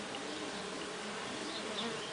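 Melipona stingless bees (guaraipa) swarm Ora pro Nobis flowers in full bloom in the early morning, making a steady, soft, dense buzzing hum with no voices.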